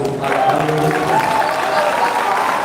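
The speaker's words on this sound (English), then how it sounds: "Round of applause for him again" Audience applause in a hall for Dr. Kabir Musa after an honor is presented, a steady wash of clapping with faint voices and a tonal hum underneath, holding at an even level throughout.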